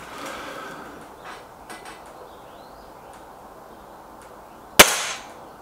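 An air rifle, either a Gamo Whisper X or a Hatsan 900X Breaker, fires one sharp, close crack at targets late in a quiet stretch, preceded by a few faint handling clicks.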